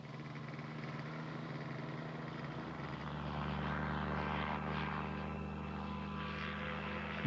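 A microlight aircraft fitted with floats drones overhead in Iceland, its small engine humming steadily and swelling slightly louder midway through, with no voices over the continuous buzz.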